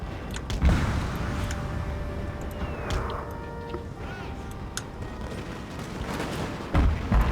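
Artillery firing canister shot in Napoleon: Total War, a Prussian battle, with a few deep booms near the start and end over a continuous rumble of distant gunfire and crackling musketry.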